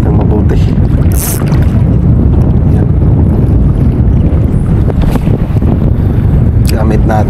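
Strong wind roars steadily across the microphone while fishing from a boat, loud and buffeting throughout, with faint water and boat sounds underneath and a brief squeaky noise.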